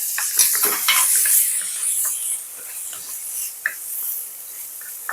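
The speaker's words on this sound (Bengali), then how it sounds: "এবার ভালো করে কষিয়ে নেব" A vegetarian soybean and chana dal curry with raisins, cashews and a splash of water sizzles and hisses in a pan, with brisk scraping of a spatula stirring it close by.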